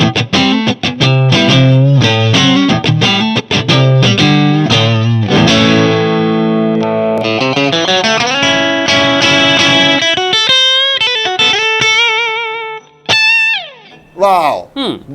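A Playtech electric guitar played through an amp with a bright, light tone and slightly lowered treble, distorted chords and riffs with bends and vibrato, loud and close.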